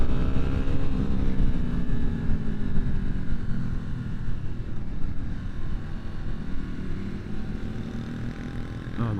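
A Yamaha MT10 motorcycle rides along Route 60, its engine droning in a loud, steady roar with wind rush, the note rising and falling slightly across the ride, with no talking.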